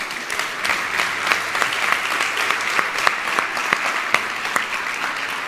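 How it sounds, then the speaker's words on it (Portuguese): An audience at a motivational talk bursts into applause, a steady, even patter of many hands clapping at moderate distance with no voices over it. "Uma salva de palmas para quem está vivo"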